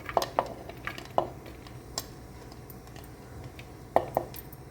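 Chopped snake gourd goes into a pan for a prawn and mango curry, with a few sharp metal clinks and scrapes of stirring against a faint background, quiet and close.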